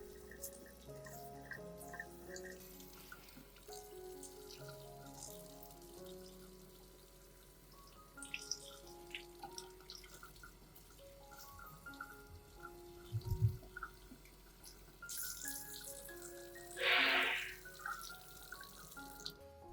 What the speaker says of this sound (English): thoroughly rinse the entire plant with clean water